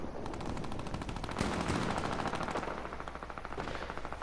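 Rapid automatic gunfire from teammates in the Fortnite battle royale game, steady rattling bursts running through the whole stretch at moderate loudness with no talk over it.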